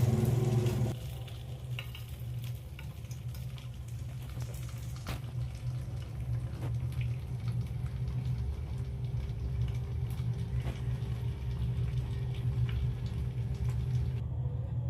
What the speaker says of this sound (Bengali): এবার উপর থেকে আমি 1 চামচ ঘি দিয়ে দিলাম।